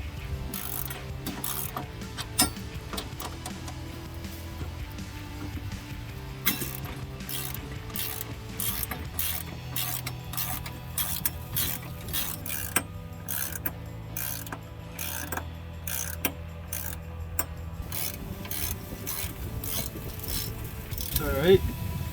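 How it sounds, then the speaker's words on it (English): Rapid clicking of a ratchet wrench as bolts are cranked down on a side step bar for a 2019-2022 RAM 1500, steady repeated ratcheting strokes close up with faint background hum. "Now I'll crank them down, but once again, not fully tight"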